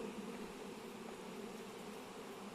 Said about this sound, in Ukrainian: Тільки собирався убирати магазин, дивлюся, рій летить.